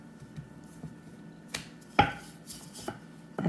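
Guyanese paratha roti dough being rolled and handled on a floured surface, with a few soft thumps and slaps scattered over a quiet background and one sharper knock near the middle.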